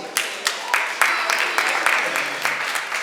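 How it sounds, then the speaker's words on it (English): Audience applause at a community talk at Auntie Jean's Afrikan Culture Market, moderate and steady with repeated bursts of clapping, slightly distant. "Give a round of applause."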